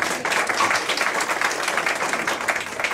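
An audience at a Gujarati literary book-launch event claps in a dense, steady round of applause, sustained evenly throughout with no voices over it.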